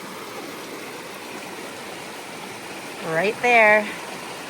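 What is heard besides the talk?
mountain river flowing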